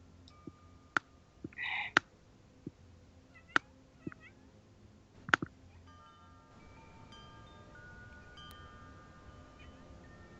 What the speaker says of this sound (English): for the sound of kitties.